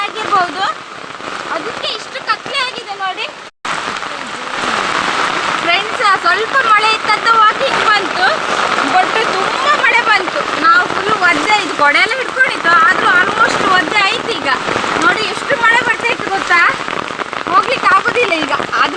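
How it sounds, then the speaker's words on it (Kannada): Heavy rain pours down steadily in a loud, dense hiss, with a person talking over it throughout. "ನೋಡಿ ಎಷ್ಟು ಮಳೆ ಬರ್ತಾ ಇದೆ"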